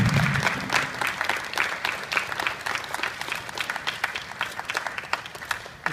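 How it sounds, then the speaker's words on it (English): An audience at a University of Georgia award ceremony for Chris Conley's 2014 All-State Good Works Team trophy applauds steadily, a dense, moderately quiet patter of many hands clapping without pause. "let's give Chris a round of applause"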